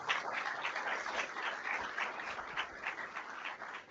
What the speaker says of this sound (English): Maybe we should have a round of applause for our panelists before we open this up.